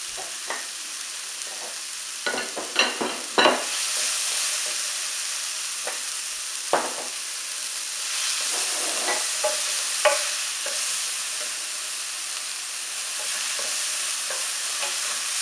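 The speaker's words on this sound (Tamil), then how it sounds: "நம்ம இன்னும் கொஞ்சம் கூட எண்ணெய் ஊத்திட்டு வெங்காயத்தை ஃப்ரை பண்ணி எடுத்துக்கலாம்" Onions fried in extra oil in a pan for a fish omelette, a continuous close sizzle broken by repeated scraping and tapping of a spatula as they are stirred.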